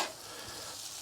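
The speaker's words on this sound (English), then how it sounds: "we're gonna mix it all up. This is fried cabbage to us." Fried cabbage with sausage and shrimp on a Blackstone griddle, a faint continuous sizzle with a single sharp scrape of a spatula at the end.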